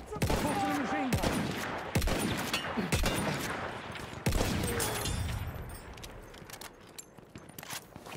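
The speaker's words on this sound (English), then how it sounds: "Machine gun!" Video game machine gun fire: dense bursts of rapid, loud gunshots with sharp cracks about once a second, easing into scattered distant shots near the end, with footsteps and gear rattling underneath.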